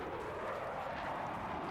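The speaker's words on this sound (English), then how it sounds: "like, you almost can't hear anything over that jet." A jet aircraft roars overhead in the Battlefield 6 video game, a dense, steady broadband rush that stays loud and unbroken throughout, drowning out everything else.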